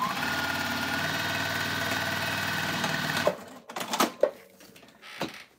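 A sewing machine stitches a bag, humming loud and even for about three seconds before stopping, followed by a few clicks and knocks as the fabric is handled.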